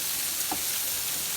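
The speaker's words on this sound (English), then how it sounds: "you see we got a good little sizzle going off up in that thing" Steady, bright sizzling of burger patties frying in a hot skillet, a continuous crackle close by with a brief scrape partway through.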